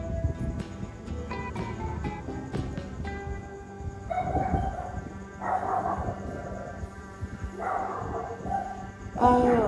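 Dogs bark and yip in short bursts over a steady background hum, with several higher-pitched barks coming in rapid groups.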